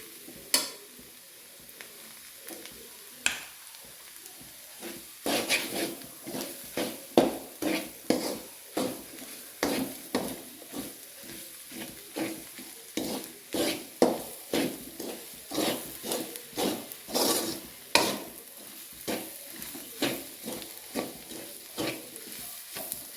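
Tomatoes are stirred into onions and garam masala in a pan, a spoon scraping and clacking in irregular bursts over a faint sizzle, close by with no talking.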